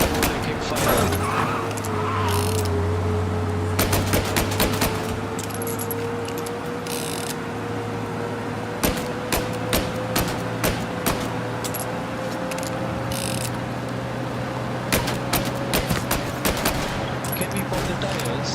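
Video-game gunfire from Mafia Definitive Edition, shot while driving, comes as scattered sharp bursts and rapid volleys over a constant car-engine drone.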